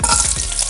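Ginger and garlic sizzle briskly in hot sunflower oil with cumin, a loud, close, steady frying hiss with faint stirring scrapes and no talking.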